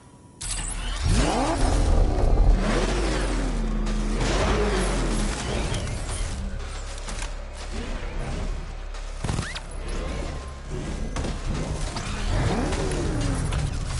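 A car engine in Batman Arkham Knight roars and revs in rising and falling sweeps, loud and close, amid mechanical clatter and bursts of gunfire-like crackle.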